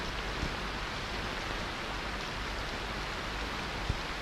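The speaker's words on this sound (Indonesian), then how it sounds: "Kalian dengar bunyi rintik hujan itu?" Light rain patters steadily and evenly throughout, a dense soft hiss with no voices over it, set in a historical drama about the Acehnese heroine Cut Nyak Dhien.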